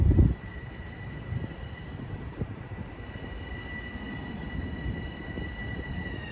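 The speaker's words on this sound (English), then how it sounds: "At 315, arriving westbound is train 857 from Long Beach to Penn Station." LIRR train 857 from Long Beach to Penn Station arrives westbound at Valley Stream with a steady rumble and faint high-pitched wheel whine. A brief thump opens the sound, then it holds at a moderate level.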